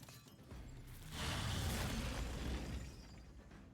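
A detonation blast in the fantasy game Raid Shadow Legends, hit on a demon lord boss by a poison team, swells into a broad roaring rumble that holds for about two seconds and then fades slowly, with no voice over it.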